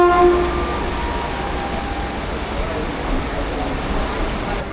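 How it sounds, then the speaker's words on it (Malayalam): A Kozhikode–Shoranur passenger train pulls into a station in steady, loud rumble, with a brief horn-like tone at the start and a person talking over the rolling noise. "ആ കയറി വരുന്നത് കോഴിക്കോട് ഷൊർണൂർ പാസഞ്ചറാണ്."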